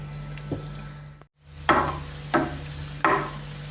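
Cottage cheese dough balls deep-fry in oil with a steady low bubbling hum. Three stirring swishes come at roughly even intervals, close by, after a moment of near silence.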